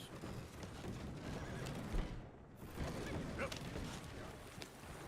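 A horse whinnies in the video game Red Dead Redemption 2, a short, moderately faint neigh set against a steady ambient game background, without speech.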